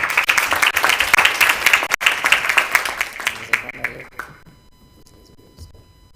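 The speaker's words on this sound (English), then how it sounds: "Let's welcome him with a round of applause." Loud, dense applause from a large crowd fills the room at a conference opening session, then fades out quickly toward the end, leaving near silence.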